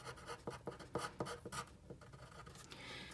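Pen scratching across a journal page as a word is written, a series of short scraping strokes with brief pauses, close and fairly quiet, with no talking.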